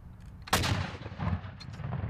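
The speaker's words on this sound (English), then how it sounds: "When the U.S. Army fires a 21-gun salute, each blast of the cannon is a moment of precision." A U.S. Army cannon fires once during a 21-gun salute honoring former President George H.W. Bush. The sharp, loud blast rings out against quiet background noise, then trails off in a long echoing decay.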